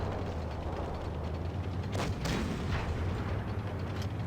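A tank cannon fires in World of Tanks Blitz, a sudden booming shot around the two-second mark followed by a second blast, over a constant low engine rumble of the battle.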